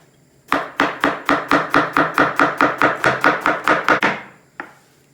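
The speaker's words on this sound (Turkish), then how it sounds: "Hemen soğanları sotelik doğruyoruz." A knife chops onions into sauté pieces for a chicken sauté, about fifteen crisp, evenly spaced strikes on a cutting board in quick rhythm, close and loud, ending with a single final chop after a brief pause.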